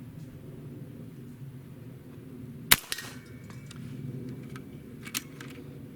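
A single sharp crack from an AEA Challenger PRO air rifle fired at a propane can, standing alone against a low, steady outdoor rumble, followed by a few faint scattered ticks.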